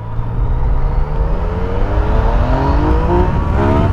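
A Yamaha MT09 Tracer three-cylinder motorcycle revs hard under open throttle, a loud close engine note climbing steadily in pitch with rising harmonics, uninterrupted and without talk.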